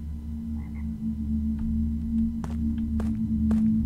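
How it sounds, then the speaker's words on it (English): An oversized frog in the horror game Shadows Peak croaks in a few short, sharp bursts near the end, standing out over a steady low ambient hum without any voices. "It was a frog."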